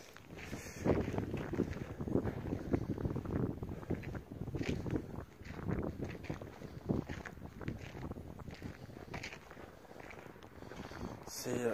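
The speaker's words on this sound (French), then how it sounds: "là il y a du vent." Wind gusts at a chapel at night, buffeting and rumbling in low, uneven surges that rise and fall continuously, close and fairly strong, with faint voices murmuring underneath.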